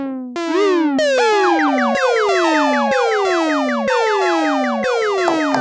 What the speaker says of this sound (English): so it's very easy to kind of get into the frequency modulation range